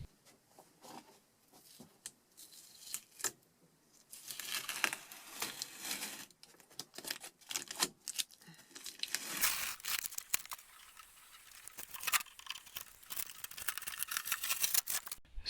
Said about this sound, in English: So let's remove that foil tape.